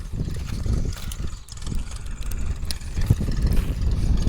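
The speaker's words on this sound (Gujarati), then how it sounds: "ટ્રેક્ટર જોઈ લે હાવ સ્લો લીવરમાં, હાવ આરામથી હાલે." A tractor pulling a reversible plough through a field in low gear, its engine running slowly with a steady mid-loud rumble and uneven thumps from the soil work.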